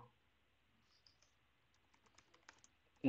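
Soft, quick keystrokes on a computer keyboard as a database query is typed, sparse at first and then denser in a light clicking patter, ending on a sharper tap.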